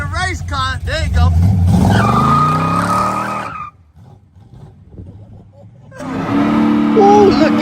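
A car with a swapped LS3 V8 engine revs hard during a burnout as tires squeal and skid, then the roar drops away briefly before revving back up, with people shouting and cheering nearby.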